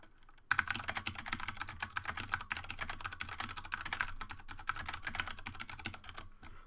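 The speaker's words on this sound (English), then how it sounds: "And I'll do a little bit of typing here for you." Continuous fast typing on a mechanical keyboard fitted with Cherry MX Clear switches, dense overlapping key clacks close to the microphone, steady for several seconds with no talk.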